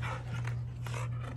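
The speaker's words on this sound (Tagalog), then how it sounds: "Ang gulo ng aso ko." Pet dog panting and scuffling up close, a brief rough breathy burst with no talk over it.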